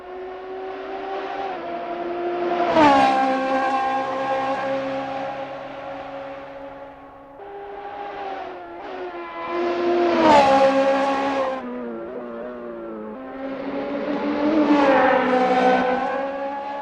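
A Radical SR3 race car screams around Sebring International Raceway in a racing simulator, its high engine note rising and falling through three long upshift-style sweeps, loud and close, with no talk over it.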